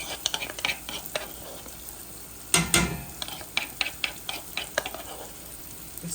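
Crushed garlic and pimento seeds dropped into hot oil with turmeric, sizzling and frying while a utensil clicks and scrapes in the pan, with one louder burst of sizzle partway through.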